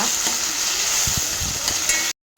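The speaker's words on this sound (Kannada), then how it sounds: "ಚೆನ್ನಾಗಿ ಫ್ರೈ ಆಗಬೇಕು ಇದು ಟೊಮೆಟೊ ಎಲ್ಲ ಫುಲ್ ಸಾಫ್ಟ್ ಆಗಬೇಕು" Tomatoes fry in a pan with a steady, continuous sizzle close by, a few soft stirring knocks of a utensil breaking through before the sound cuts off abruptly near the end.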